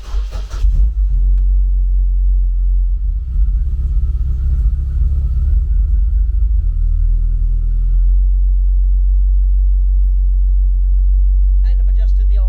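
A car engine cranks and catches, then settles into a deep, loud, steady idle rumble close to the listener, holding evenly throughout with a brief higher-pitched noise near the end.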